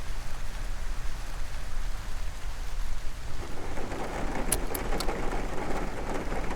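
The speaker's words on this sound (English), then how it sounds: "Oh, listen to that. There's a nice little rain pattering sound." Rain pattering steadily in Kerbal Space Program, a dense even hiss that swells louder partway through, with a few faint clicks near the end and no talking.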